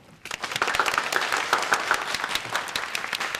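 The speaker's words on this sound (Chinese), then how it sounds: "大家掌声欢迎。" A training-class audience breaks into applause for a company chairman taking the floor, clapping rising quickly and continuing steadily from a roomful of people.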